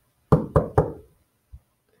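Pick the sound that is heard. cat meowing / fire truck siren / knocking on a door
knocking on a door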